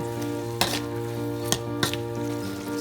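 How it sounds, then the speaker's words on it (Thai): Silkworm pupae stir-fry with holy basil, sugar, seasoning sauce, oyster sauce and seasoning powder, giving a steady close sizzle in the pan broken by three sharp scrapes of the spatula. No talking. "ผัดให้ส่วนผสมทุกอย่างเข้ากัน"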